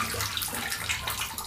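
Water runs steadily over a small plastic Fix Price toy, a continuous close splashing trickle with no voices.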